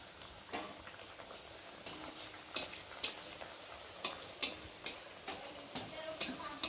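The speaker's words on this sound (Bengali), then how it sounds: "তো লুচি ভাজবো।" Luchi sizzling as they fry in hot oil in a kadai, with a faint steady hiss broken by a dozen sharp crackling pops and ticks spaced irregularly, fairly quiet and close.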